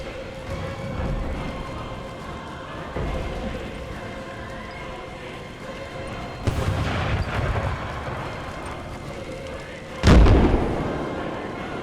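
3-inch artillery guns firing in Napoleon Total War, American Civil War setting: two heavy cannon booms, the second closer and louder, over a continuous battlefield din of distant gunfire and rumbling.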